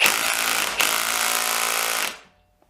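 A cordless drill runs at full speed to free a stuck chuck, with a loud steady whir and a brief hitch partway through, then winds down to quiet near the end.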